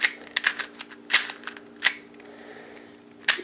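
A SenHuan Mars 3x3 speed cube being turned, its plastic layers snapping in quick irregular clicks and clacks, some in rapid pairs, close and crisp with no talk.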